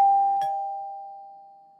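A doorbell chimes once in a two-tone ding-dong, then its bright ringing tone fades slowly on its own with no voices.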